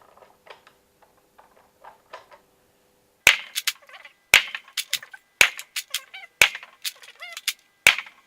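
A Deadpool Kronos foam blaster firing aftermarket rounds gives five sharp, loud cracks spaced about a second apart, each followed by brief clattering and mechanical rattles, after a quiet stretch of faint handling ticks.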